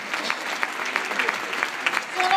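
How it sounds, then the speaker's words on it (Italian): Audience applause at a Special Olympics convention in Viterbo, Italy: scattered, moderate clapping from a crowd with distinct hand claps popping out, voices audible in the background. "Facciamogli un grandissimo applauso"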